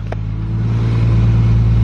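A Nissan 350Z engine running on E85 fuel cranks on a cold start and catches, settling into a loud, steady low rumble that grows slightly stronger.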